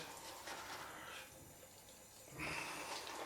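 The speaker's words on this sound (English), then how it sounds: "Add some water." Tap water runs into a bathroom sink during shaving-brush and soap preparation, a soft steady stream that thins out midway, then gushes louder again near the end.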